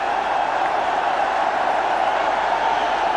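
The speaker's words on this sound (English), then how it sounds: "And this crowd is just going ballistic." A packed cricket stadium crowd in Gwalior roars in a steady, dense wall of cheering and applause, loud and unbroken throughout with no distinct individual voices.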